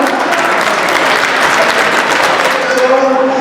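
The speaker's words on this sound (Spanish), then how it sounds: "Fuerte el aplauso." A crowd at a Father's Day gathering breaks into loud, dense applause, continuous close clapping that holds steady throughout, with faint voices and a tonal hum emerging near the end.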